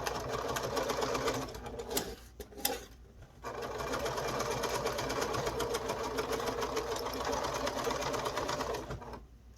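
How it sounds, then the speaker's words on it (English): Domestic sewing machine forward stitching a fabric face mask with an aluminum nose strip, a steady close mechanical whir interrupted by a brief pause near the two-second mark, then running again before stopping. "And now I'm going to forward stitch."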